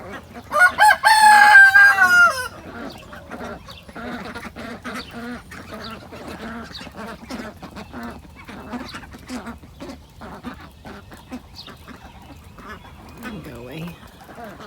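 A farmyard duck quacks amid other poultry on a rainy day, with a loud rooster crow at the start followed by scattered close quacks and clucks under intermittent talking.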